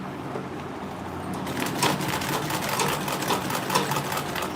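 A sewing machine back-stitches a mini grocery tote bag in a steady, rapid mechanical whir with rhythmic needle clatter, close and continuous, with no talking.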